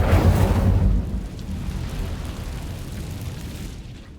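An Incendio fire spell cast in Hogwarts Legacy bursts out as a loud, deep whooshing roar that peaks at the start and then slowly fades away over a few seconds.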